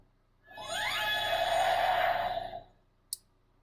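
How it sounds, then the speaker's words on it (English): A Kamen Rider Decade Complete Selection Modification Ride Booker toy sounds its Rekadaizanto card effect, a rising synthetic sweep blooming into a sustained sparkling tone, then a single sharp click afterward. "that sound is when Decade gets the Rekadaizanto card from the Shinkenger crossover episode"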